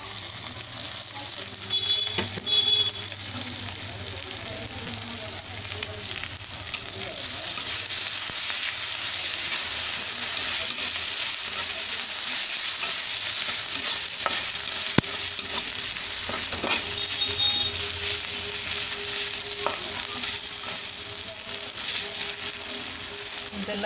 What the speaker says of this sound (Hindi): दुई मिनट भाजवा, अदा रसुण कंचा स्मेल जीवा पर्यंत